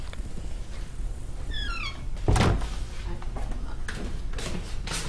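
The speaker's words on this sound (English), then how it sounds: "Just close the door behind you." A door shuts with a single dull thud partway through, among faint background noise and brief high chirps, with a voice speaking nearby.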